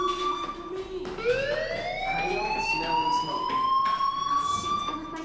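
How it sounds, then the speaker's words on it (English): A fire alarm in the Life Is Strange video game wails continuously with rising, siren-like sweeping tones, steady and fairly loud, with no talking. "do you hear that fire alarm?"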